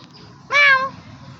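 A cat gives a single clear, close meow lasting about half a second, rising out of a quiet indoor background.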